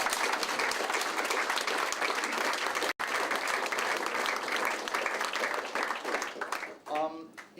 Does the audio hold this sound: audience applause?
yes